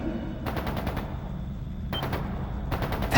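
Bursts of rapid automatic gunfire from a video game, Trails Into Reverie, sound from a distance, three separate volleys separated by brief pauses, over a low background hum.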